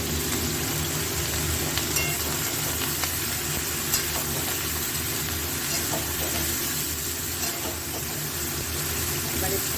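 Vegetables and raw banana frying in a pan for a fish curry, a steady broadband sizzle with occasional stirring scrapes, continuous and close throughout.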